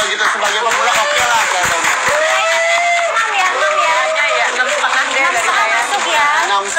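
A studio audience claps and chatters for a beginner's zombie makeup on a TV show, with a crowd babble and scattered clapping under a loud voice talking over it.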